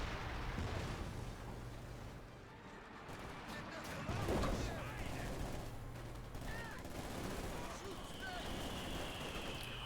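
Mortar fire rumbles in a Company of Heroes 2 battle, with dull thumps and explosions rolling through dense gunfire at moderate loudness while a commentator talks over the action.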